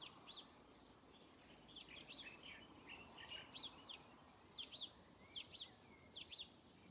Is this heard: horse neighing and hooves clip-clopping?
no